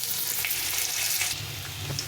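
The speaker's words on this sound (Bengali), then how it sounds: "আলুটা একটু ভেজে নেব।" Potatoes frying in a little oil in a pan tempered with dried red chilli, bay leaf and cumin, giving a steady close hiss and crackle with soft stirring taps throughout.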